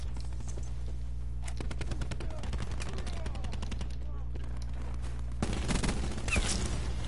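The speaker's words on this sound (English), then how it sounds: "Alright, now the shots are hitting." Rapid bursts of automatic gunfire rattle in an online shooter game over a constant low hum, with dense rapid shots that grow louder and busier near the end.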